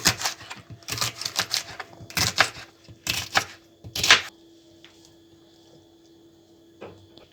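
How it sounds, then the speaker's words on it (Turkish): Knife chopping red and green peppers on a board, a brisk run of close, dry taps in several quick bursts, then a long quiet stretch with one faint tap near the end. "Biberlerimizi doğruyoruz. Kırmızı ve yeşil."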